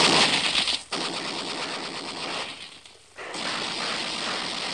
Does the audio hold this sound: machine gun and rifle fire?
yes